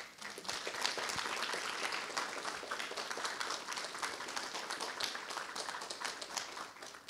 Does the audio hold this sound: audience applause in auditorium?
yes